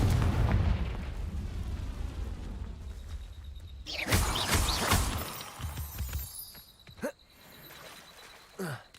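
A heavy fiery blast from the Confringo spell in the Hogwarts Legacy video game bursts out with a loud crackling boom and shattering debris, followed by scattered smaller impacts and rumbling as it fades.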